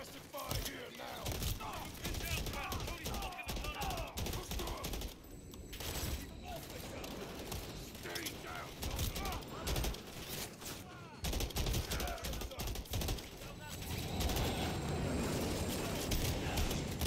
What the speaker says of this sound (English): We need suppressive fire here now.